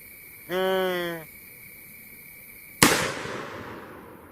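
A single loud rifle shot from a Bear Creek Arsenal rifle in .450 Bushmaster cracks close by during a youth deer hunt and fades in a long echoing tail, after a brief tonal call earlier.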